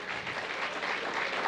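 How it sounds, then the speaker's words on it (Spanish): A church congregation applauds the Lord during a sermon, a continuous wash of many hands clapping at moderate volume, steady throughout without distinct individual claps. "déle ese aplauso al Señor"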